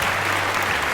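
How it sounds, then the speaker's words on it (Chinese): A short burst of applause, many hands clapping together in a dense, even wash that lasts about a second. "是不是应该给自己掌声鼓励鼓励呢"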